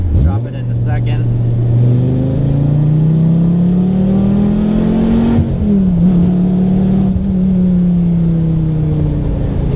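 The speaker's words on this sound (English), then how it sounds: "The car is very loud in every regard, in terms of road noise, wind noise, engine noise" A Dodge Viper GTS engine drones loud and close from inside the cabin, its pitch climbing steadily under acceleration. It dips briefly at the shift into second gear, then pulls on again, with road and wind noise around it.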